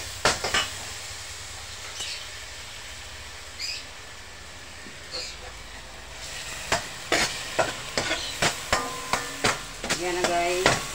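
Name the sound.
onion and garlic sautéing in a pan for pinakbet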